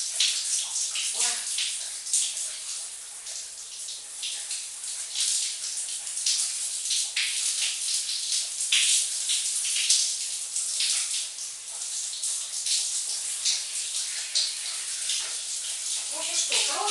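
A washing machine fills with water for a load of bed sheets, giving a steady hissing rush of running water that lasts throughout, while someone speaks intermittently over it.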